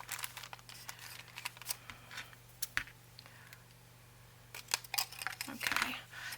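Quiet crafting sounds as a paper bag insert for a ring bound journal is trimmed, with soft crinkles, rustles and sharp little cuts, sparse at first and busier near the end over a low steady hum.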